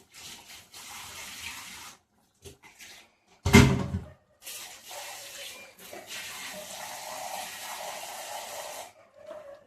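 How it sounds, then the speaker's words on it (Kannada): Water poured into a pan of Karwar-style lady fish curry, splashing and trickling in short bursts with a sharp clunk midway, close by and fairly quiet. "ಸ್ವಲ್ಪ ನೀರು ಹಾಕ್ಕೊಳ್ತೀನಿ"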